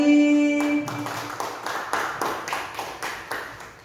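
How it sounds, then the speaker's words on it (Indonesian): A small group, likely a classroom of teachers or students at a school session in Jepara, claps in a few spaced, rhythmic bursts after a ringing tone fades, fairly close and moderate in volume. "Tepuk tangan sekali lagi."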